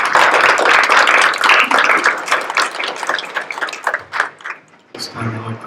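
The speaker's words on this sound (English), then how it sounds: "may we have a round of applause for the United States Marines?" Audience applause at an Elks lodge flag retirement ceremony, a steady crowd clapping that fills most of the stretch before thinning out near the end, where a voice briefly comes in.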